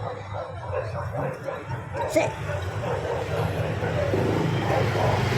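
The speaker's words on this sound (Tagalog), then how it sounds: "Ito naman, ang laki ng aso, oh." A large dog barks and yips a few times close by, with whimpering and background noise around it.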